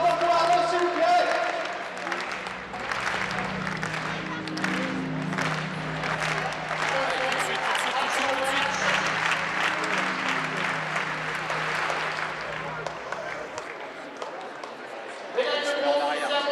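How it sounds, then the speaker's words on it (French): An audience applauds a world champion para-athlete at a sporting event, sustained dense clapping with cheers running loud and steady for most of the stretch, then briefly dropping off near the end. "vos applaudissements pour Arnaud, s'il vous plaît."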